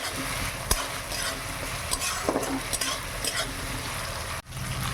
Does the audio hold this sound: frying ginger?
yes